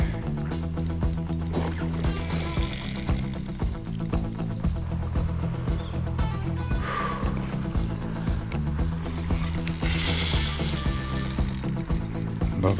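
A fishing reel's drag gives out a continuous ratcheting buzz while a carp pulls line off during summer carp fishing. The sound is steady and close and lasts the whole stretch over outdoor background noise, and no one speaks over it.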